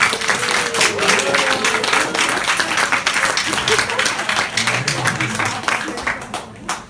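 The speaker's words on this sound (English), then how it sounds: "Could we have a round of applause for them" Warm applause at a senior dinner for the graduation committee, a full room clapping loudly and continuously with some cheering voices mixed in, tapering slightly near the end.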